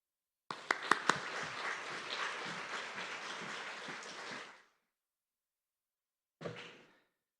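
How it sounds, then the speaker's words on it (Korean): A church congregation at a monthly prayer service gives a guest pastor a welcoming round of applause: dense, steady clapping for about four seconds, then silence, then a brief second burst of claps. "큰 박수로 환영 부탁드리겠습니다"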